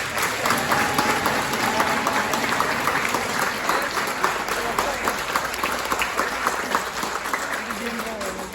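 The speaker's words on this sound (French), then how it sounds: "Donc je crois que vous pouvez les applaudir." Sustained audience applause at an open-air shepherds' festival in Tende, steady dense clapping that fills the whole stretch at an even level, with crowd voices mixed underneath.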